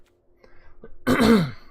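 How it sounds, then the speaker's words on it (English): A few faint small coughs followed by one loud, rough throat clearing with a falling, gravelly tone, close to the microphone. "Sorry about my coughing."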